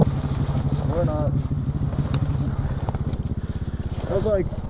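A motorcycle exhaust idles with a low, rapid, uneven putter, and a voice speaks briefly over it.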